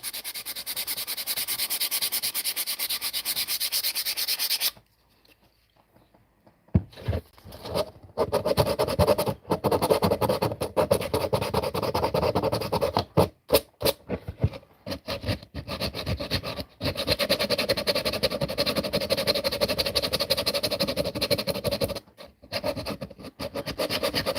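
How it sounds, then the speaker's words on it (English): Sandpaper rubs hard against wooden end grain in long repeated strokes, a loud scratchy rasp with a brief pause early on, then steady uneven scrubbing. "Hard sanding the end grain because it just soaks up oil"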